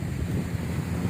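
Breezy wind at Dolomite Beach in Ermita, Manila buffets the microphone with a continuous low rumbling rush, steady and close throughout.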